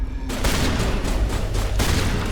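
Sustained gunfire crackles through a Mass Effect firefight, dense overlapping bursts of shots rattling loudly and close for seconds on end with no talk over it.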